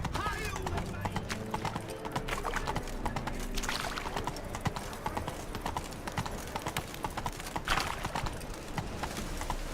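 Roach the horse's hooves clip-clop steadily in The Witcher 3, with a short whinny, under game dialogue and background ambience.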